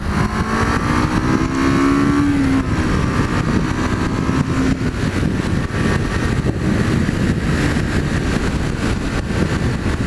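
A 2006 Kawasaki Vulcan 500 motorcycle accelerates, its engine rising in pitch through the gears with a loud, steady roar heard close up from the rider's position, mixed with wind rush.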